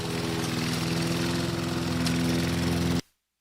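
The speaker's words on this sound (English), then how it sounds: "Wave to your neighbor who's on his riding mower you got from the box store." A riding lawn mower engine drones steadily and loudly with a rough, pulsing rumble for about three seconds, then cuts off abruptly into silence, with no voices.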